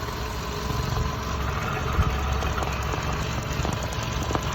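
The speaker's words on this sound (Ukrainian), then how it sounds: "Двигун працює чітко." A car engine idles steadily with a low, even rumble and faint mechanical ticking, no talking, constant level throughout.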